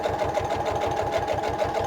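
Close and steady, a sewing machine runs a long, wide stitch with pink thread around the border of a paper page, its needle thumping in a fast, even rhythm.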